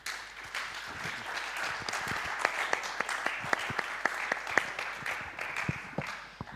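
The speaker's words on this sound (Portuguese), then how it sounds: "Peço-me enorme salva de palmas." Audience at a sports congress in Sardoal applauding a speaker, steady clapping of a medium-sized crowd with distinct sharp claps standing out, moderately distant and sustained.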